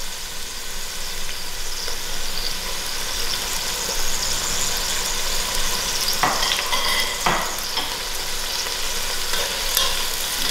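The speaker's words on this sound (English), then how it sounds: "Add in our thyme, our curry leaf to cook with the oil, and thereafter our ginger garlic" Thyme, curry leaves and ginger garlic fry in hot oil for a lamb dhal gosht, giving a loud, steady, close sizzle with brief scraping stirs partway through and no talking.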